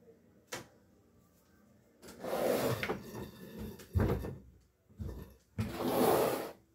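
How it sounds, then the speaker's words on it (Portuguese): Bedroom door being closed and locked: a sharp click, then sliding and scraping bursts with knocks and a latch thud, followed by another rattling burst, close and alone without speech. "Vou fechar aqui a porta do meu quarto"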